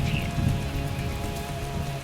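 Rain falls steadily in a dubbed South Indian movie scene, a dense, even patter of drops on surfaces that stays close and continuous with no voices.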